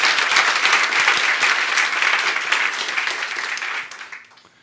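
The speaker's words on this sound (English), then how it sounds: "How does a strong applaud sound?" An audience at a Startup Grind Almedalen 2016 event bursts into strong applause. Dense, loud clapping holds steady for about four seconds, then tails off quickly.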